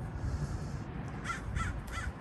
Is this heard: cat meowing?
no